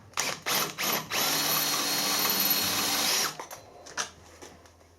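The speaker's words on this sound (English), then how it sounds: "Right, so I can get a drill through there." A power drill bores through a bronze weld gear, a steady high-pitched whine lasting about two seconds, preceded by brief bursts and followed by a few short clicks and taps.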